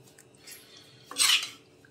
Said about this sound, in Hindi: एक बर्तन में सब्जी को निकाल लेते हैं।